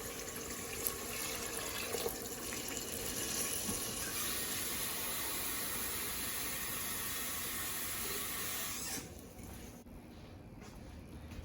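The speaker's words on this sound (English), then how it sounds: "Now we add water." Water poured into a cooking pot of beef haleem, a steady loud gushing and splashing stream lasting about nine seconds before stopping, leaving faint kitchen sounds.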